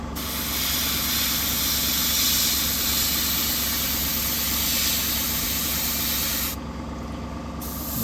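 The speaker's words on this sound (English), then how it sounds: "so everything that hasn't been fully glued down, the pressure from the airbrush is just removing" An airbrush sprays weathering onto model railway track and loose ballast, a loud continuous close hiss that holds steady for several seconds before the air flow cuts back to a quieter hum.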